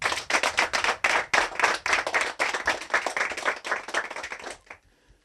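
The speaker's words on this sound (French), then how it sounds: "je vous demande d'applaudir pour vous" A gathered audience at a political talk claps in bursts of quick, close hand claps for about five seconds, then stops abruptly into near silence.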